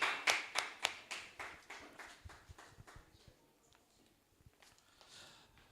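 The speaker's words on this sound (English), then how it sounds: "Please, a round of applause for" A small conference audience at a parallel session claps for a departing speaker: a burst of crisp, fairly close handclaps that thins out over a few seconds into scattered taps and fades into room quiet.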